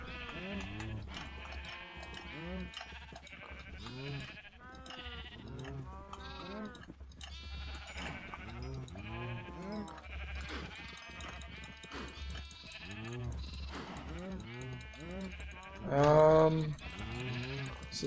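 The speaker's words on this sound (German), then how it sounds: "Schafe" A flock of sheep bleating in the video game Minecraft, many overlapping close bleats in a steady stream, with one louder bleat near the end.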